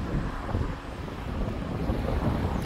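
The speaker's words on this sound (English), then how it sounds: "It's a bit breezy." Strong wind buffets the microphone on an open beach, a steady low roar with gusting rumble that fills the whole short stretch, with no one speaking.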